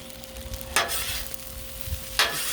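Chicken fried rice sizzles on a flat-top Blackstone griddle while a spatula scrapes across the steel in two bright strokes, close and steady with no talk.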